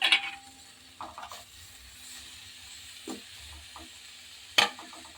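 About 100 grams of paneer is stirred through masala in a pan: a faint steady sizzle runs throughout, with a few soft scraping stir strokes and one sharper clink of a spoon against the pan near the end.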